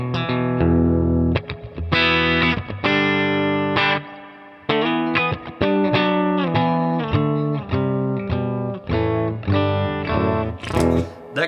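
A Mexican-made Fender electric guitar played through distortion and chorus effects, loud chords and riffs in short phrases with brief pauses between them, no talking.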